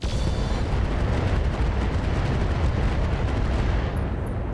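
Heavy mech weapons fire in the RogueTech BattleTech game, a dense sustained roar of booming, rumbling blasts that fills the whole stretch at steady high loudness with no pauses.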